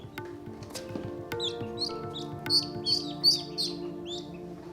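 Newly hatched ducklings peep in quick high-pitched bursts, several overlapping close by, with a faint low background hum.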